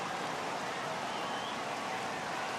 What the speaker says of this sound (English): Well, the rain's starting to intensify here. It's coming down a little heavier now.